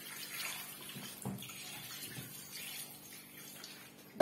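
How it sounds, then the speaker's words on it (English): Tap water runs into a cooking pot for spinach soup, a steady rushing pour at close range with a few clanks of the pot and no talk. "Now we put water."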